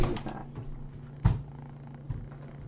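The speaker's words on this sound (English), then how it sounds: "Listen to his purr." A rescued shed kitty named Wally with healing eye wounds purrs close up in a low, rumbling rhythmic drone, interrupted by a couple of soft bumps.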